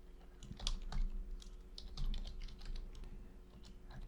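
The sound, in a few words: typing on a computer keyboard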